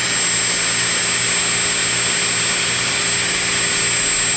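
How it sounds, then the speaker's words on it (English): A power drill whines steadily and loudly as it bores into a 1990 Yamaha Mariner CV30 30 hp outboard motor, one unbroken high-pitched run close to the microphone. "Let's just see if I can drill a hole here."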